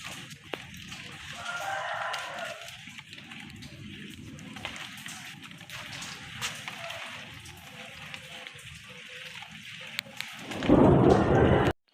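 Steady rain falls around a home with plants, with low thunder rumbling through the downpour and a loud, close burst of rain noise near the end.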